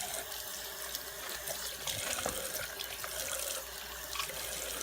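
Tap water runs steadily into a sink while makeup brushes are rinsed under the stream, with soft splashing and occasional drips over a constant rushing flow.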